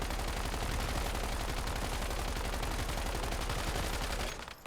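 Rapid gunfire in the Once Human video game, a dense, continuous burst of sharp shots that fills the whole stretch before stopping abruptly at the end.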